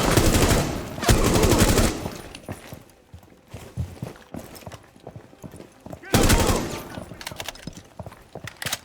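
Gunfire from Rainbow Six Siege comes as two loud, rapid bursts of automatic shots, separated by a stretch of quieter clicks, scattered footsteps and lighter shots.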